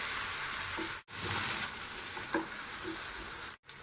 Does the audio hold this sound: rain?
no